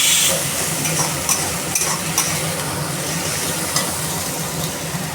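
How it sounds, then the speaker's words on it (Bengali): Onion and tomato frying with ground spice paste in a pan, a close continuous hiss and sizzle with occasional utensil clinks and scrapes while being stirred, no one speaking. "বাটা মশলাটা দিয়ে ভালো করে আমি কষিয়ে নেব পেঁয়াজটা টমেটোটা।"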